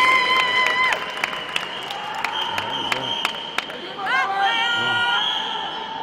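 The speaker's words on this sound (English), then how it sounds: "I think it's fair to say that we have a capacity crowd on hand." A capacity crowd cheers in a packed indoor pool hall at the men's swimming final of the Modern Pentathlon World Championships in Warsaw, a steady roar with whistles and shouts that swells near the end.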